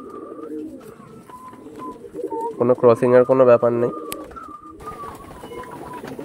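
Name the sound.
pigeons cooing, Lambadi pair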